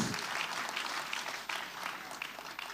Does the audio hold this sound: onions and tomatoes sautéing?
no